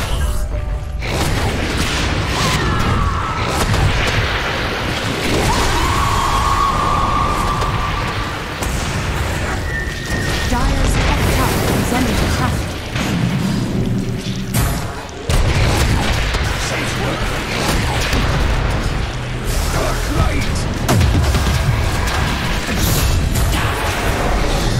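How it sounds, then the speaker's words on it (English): Booming blasts and crashing impacts from a Dota 2 tower under attack, dense and loud for the whole stretch with mechanical clatter, and a voice speaks at times over the din. "Dire's top tower is under attack."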